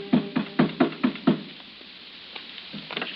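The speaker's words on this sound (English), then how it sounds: "She turned toward the door when Ngobe knocked" A radio-drama door knock: six firm raps in an even rhythm, close and distinct, followed by quiet room tone with a few faint scuffs.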